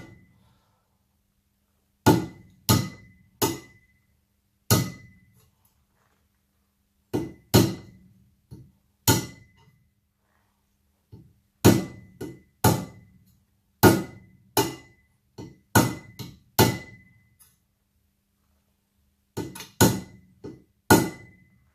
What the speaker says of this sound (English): If all you've got's a normal hammer, we'll just make do with it.